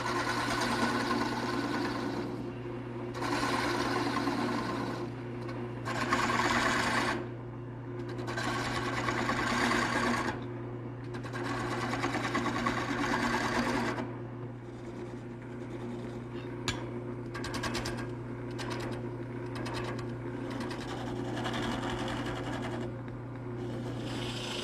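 Wood turning on a lathe with a gouge in a woodworking shop: a steady motor hum runs throughout while the gouge cuts in repeated bursts of scraping, hissing noise, each lasting a couple of seconds, close and fairly loud.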